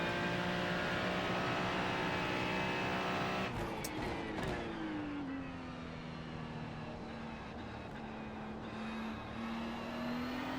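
A GTP race car in the video game iRacing takes the kink in a multi-class race, with a steady engine drone that shifts pitch after a brief clunk midway and then holds a lower, sustained tone, with no talk.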